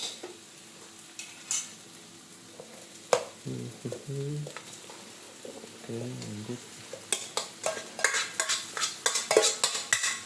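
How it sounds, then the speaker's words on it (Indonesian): Rice being stir-fried for nasi goreng in a pan, with scraping stirs and soft sizzling that grow busier and more rhythmic toward the end, while a voice briefly speaks. "Kita masukkan nasi yang akan kita jadikan nanti nasi goreng."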